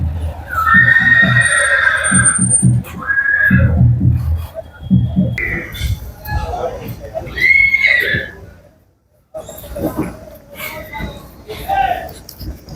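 Horses neigh and whinny loudly at the Anthiyur horse market, a couple of long calls near the start and more around the middle, amid a busy crowd with people talking throughout.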